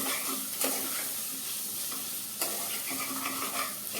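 Guvar and potato sabzi fries in a garlicky tempering after salt goes in, giving a loud, steady sizzle broken by scraping strokes of a spoon stirring through the pan, close up with no voices.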